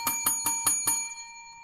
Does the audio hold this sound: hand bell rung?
yes